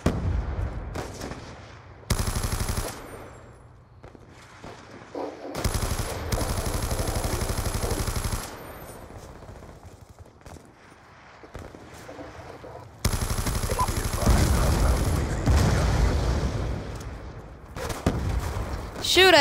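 Gunfire from an LSAT light machine gun in Call of Duty Black Ops 2, loud sustained automatic bursts in several separate stretches, with quieter game sounds and brief pauses between them.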